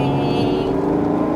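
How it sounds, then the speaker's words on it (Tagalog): A 2025 Mazda CX-60 with the 3.3L turbo engine runs in sports mode on an all-wheel-drive test drive, giving a loud, steady engine drone heard close from inside the cabin without any break. "pero maganda yung tunog ng makina niya."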